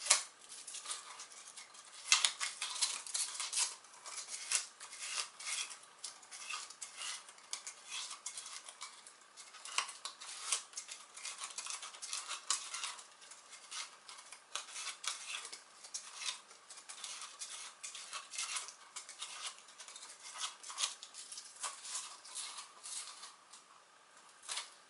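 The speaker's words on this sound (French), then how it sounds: "Faut se prendre une petite drémelle avec un papier sablé. Le mieux est là à la main." Steady, close scratchy rasping of sandpaper worked by hand over a radio-controlled car tire, continuous for the whole stretch with no talking.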